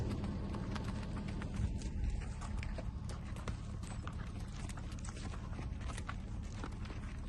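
Hooves of a buckskin quarter horse stud colt clopping in a steady irregular rhythm, faint and distant under a constant wind-like background rumble.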